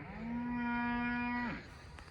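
One cow on a grass farm lets out a single long, loud moo close by that falls off at the end. Faint outdoor background noise follows, and nobody speaks.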